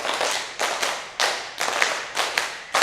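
A classroom group claps hands together in rhythm, several sharp broadband claps in quick counted bursts, near and fairly loud, with no talking.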